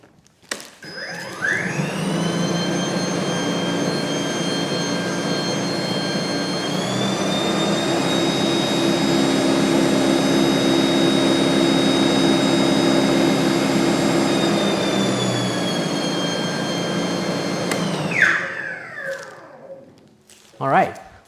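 EGO Power+ SNT2112 cordless single-stage snow blower with a 5.0Ah battery runs steadily at high speed in winter conditions, a loud continuous electric whine with a rising pitch as it spins up, then it winds down and stops.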